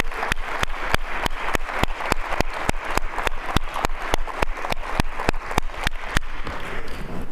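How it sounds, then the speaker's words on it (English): A crowd applauds at a school district's State of the District event. Dense, steady clapping runs throughout, with one sharp, evenly timed clap standing out above the rest, and no talking. "Let's give them a round of applause"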